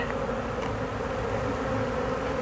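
Honeybees at an opened hive in an apiary make a dense, continuous buzzing hum that fills the air at close range, steady and unbroken, with no voices present.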